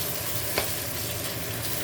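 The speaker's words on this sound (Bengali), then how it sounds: "ট্যাংরা মাছের ঝোলের জন্য মশলা কষাচ্ছি" Spices such as chilli powder, ginger and turmeric being stir-fried in a pan for a Bengali tangra fish curry give a steady, close sizzle with a single brief scrape partway through.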